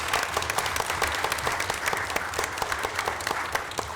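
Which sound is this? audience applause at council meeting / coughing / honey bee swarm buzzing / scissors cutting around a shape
audience applause at council meeting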